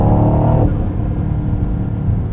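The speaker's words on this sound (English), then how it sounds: "It's that perfect blend of boost noise, induction, and exhaust." A 2024 Mercedes-AMG GT63 coupe's 4-liter V8 pulls hard under acceleration, loud and close, with boost whoosh, induction roar and exhaust blending, easing off slightly after a brief sharper surge.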